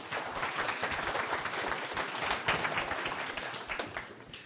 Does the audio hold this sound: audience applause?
yes